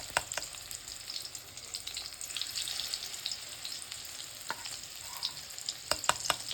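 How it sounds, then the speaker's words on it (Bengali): Mustard flower fritters fry in hot oil with a continuous close crackle and sizzle, punctuated by sharp pops and the occasional scrape of stirring. "এখন শুধু আমি একটু ভাজছি"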